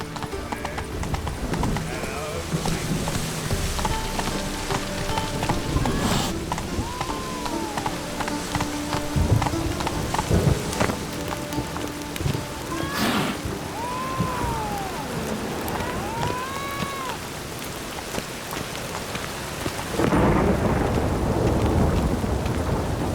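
Thunder rumbles and rain pours in The Witcher 3 while a horse's hooves clip-clop along and it whinnies now and then, the storm swelling louder near the end.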